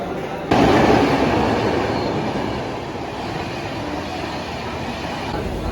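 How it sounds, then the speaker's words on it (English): A train rumbles through Andheri railway station in Mumbai during the crowded evening peak, a loud continuous roar of wheels on track with faint squealing, close by and steady throughout. "Now I'm at the Andheri railway station."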